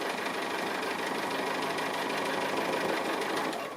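A sewing machine stitches the wheels of an appliqué vehicle, giving a constant quick buzzing hum with fine rhythmic needle ticks, close and steady throughout.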